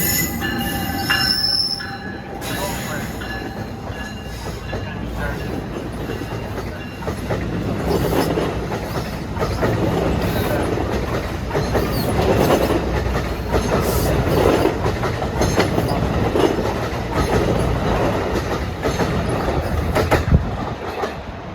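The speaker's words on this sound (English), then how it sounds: "Here goes train 3243 to Long Branch" A New Jersey Transit commuter train to Long Branch rolls steadily past on the tracks, a loud sustained rumble with clattering wheels and high metallic squeals, no voices.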